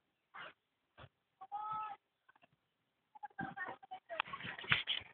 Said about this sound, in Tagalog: Tingnan po ninyo itong nasa likod kong mga manok.